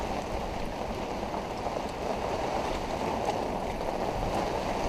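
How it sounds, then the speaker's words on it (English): Steady, dense rain hisses and patters continuously at close range aboard a sailboat in the Florida Keys, a broad wash of falling water with no voices. "Oh, there comes the rain"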